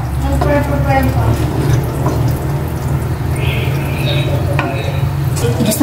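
Minced garlic sizzles in hot cooking oil as it is sautéed for a birthday meal, a steady frying hiss with occasional stirring clinks, faint voices in the background.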